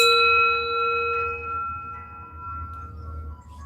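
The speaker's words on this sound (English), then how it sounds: "it's a little delayed, but a bell comes" A bell chimes once in a video game, its ringing tone sustaining and slowly fading over a low ambient hum.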